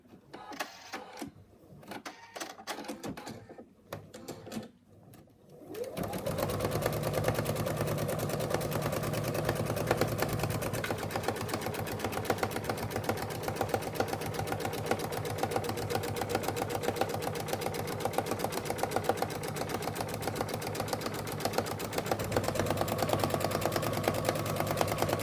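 An embroidery machine stitches an in-the-hoop wallet, starting after a few seconds of quieter handling noise, then running as a steady, close, rapid mechanical chatter for the rest of the stretch.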